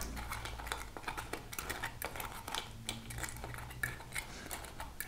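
Buffalo-sauced cauliflower pieces are stirred in a pan, giving a steady run of close clinks and scrapes from a utensil against cookware, with faint wet shuffling underneath and no talking.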